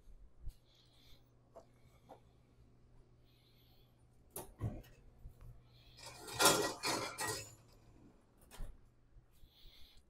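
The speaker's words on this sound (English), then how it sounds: "I'm going to the oven to get my warm plate" A warm plate is taken out of a home kitchen oven while a lemon parmesan chicken dinner is being plated. Scattered faint clinks and handling noises build to a brief cluster of clattering, rustling contact in the middle, then quiet knocks.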